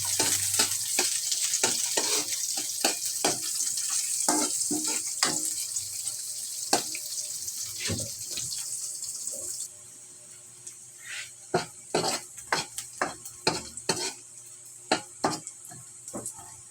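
Onion and garlic frying in a pan for a home-style monggo dish hiss with a bright, steady sizzle, broken by repeated clinks and scrapes of a stirring utensil that grow sparser and sharper as the sizzle quiets halfway through.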